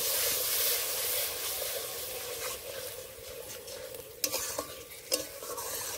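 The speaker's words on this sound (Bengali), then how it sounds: "এবার ভালো করে কষে নেব।" A spice paste of ground cumin and dried red chilli with spice water fries in oil for an egg and soyabean curry, giving a continuous close sizzle and hiss, with a few sharp scrapes of the spoon near the end.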